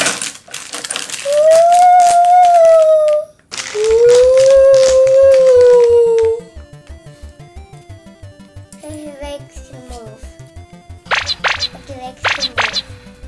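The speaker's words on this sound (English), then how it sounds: "That's a wolf sound." A Minecraft hanger key chain toy plays an electronic wolf sound: two loud, drawn-out howls followed by a ticking, clicky electronic jingle and a few sharp bursts at the end.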